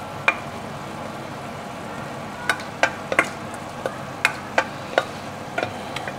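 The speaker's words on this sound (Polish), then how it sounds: "I wszystko smażymy." Cabbage and mushrooms fry in a pan with a soft, constant sizzle, while a utensil stirs them with about a dozen sharp scraping clicks at irregular intervals.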